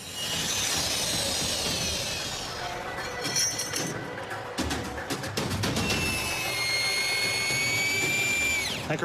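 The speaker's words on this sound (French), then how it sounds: "je vais percer un trou avant de poser une vis pour régler ce fichu problème" A power drill bores a hole into a log during a log-home repair, the motor whining steadily with shifting pitch as the bit bites into the wood, close and continuous over a noisy worksite background.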